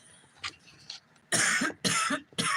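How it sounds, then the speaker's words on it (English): A person coughs three times in quick succession, loud and close, after a couple of softer throat sounds and breaths. "No, I'm going to cough."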